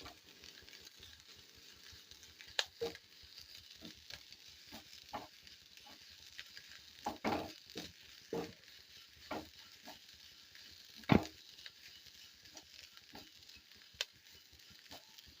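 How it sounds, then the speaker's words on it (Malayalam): Grated coconut stir-fried with spinach in a pan for a Kerala-style spinach thoran: a soft, steady sizzle broken by scattered spatula scrapes and taps against the pan, fairly quiet and close, with no talking. "തേങ്ങ ഇട്ടിട്ട് ഒന്നും കൂടി ഒന്ന് മൂപ്പിച്ചെടുക്കുക"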